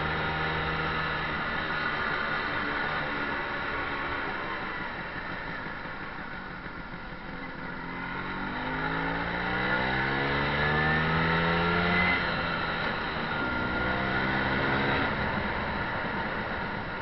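Vespa scooter engine running steadily while riding after a downshift in daylight, a continuous mid-pitched drone with harmonic bands shifting as revs dip and then rise again, close and fairly loud throughout with no talk.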